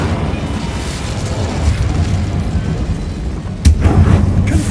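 Incendio fire spell cast in Hogwarts Legacy: a whooshing burst of flame that rises to a sharp pop near the end, loud against steady rumbling game ambience.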